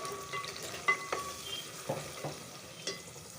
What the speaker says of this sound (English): we'll fry that up really well. So let it fry really well.